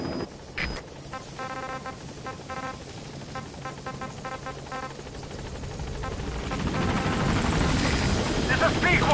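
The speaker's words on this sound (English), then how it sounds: "This is B-Quad. Arriving shortly at LZ." In Metal Gear Solid V, a support helicopter arrives at the landing zone with a rhythmic rotor chop that gradually grows louder and nearer. Radio-style voices and game sounds are heard over it.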